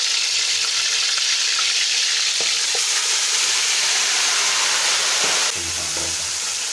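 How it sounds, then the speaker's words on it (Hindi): Chicken frying in a karahi for green chicken karahi, a loud continuous sizzle with occasional stirring clatter and a brief drop near the end, no talking. "चिकन डाल दें"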